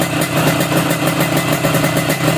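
Motorcycle engine idling loudly and close up while the carburetor mixture screw is adjusted, a continuous slightly uneven, stumbling exhaust burble with no voices.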